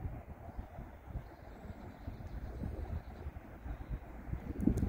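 A train pulls slowly out of a siding at a depot at Patchway on the Great Western Main Line, a faint, distant low rumble that rises and falls under wind noise.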